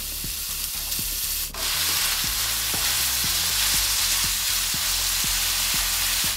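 Loud, steady sizzling of bacon frying in a pan, with a continuous crackle and scattered pops and spits close by.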